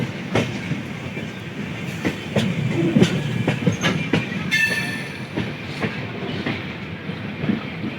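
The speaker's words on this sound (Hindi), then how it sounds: "हमारे सामने खड़ी है गोंडा एक्सप्रेस, जो प्लेटफॉर्म नंबर 1 से निकल चुकी है।" Gonda Express passenger train pulling out of platform 1 at a station, steady rolling rumble with repeated clickety-clack wheel beats across the rails and a brief high wheel squeal midway, close and loud throughout.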